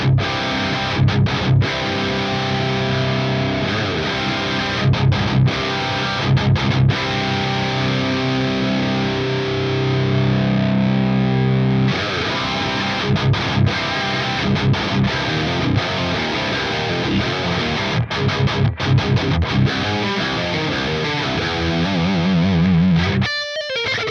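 Electric guitar played through an Axe-Fx III modelling a Mesa Mark series amp, with thick distorted chords and riffs ringing out alone, broken by short choked pauses and a brief gap in the middle.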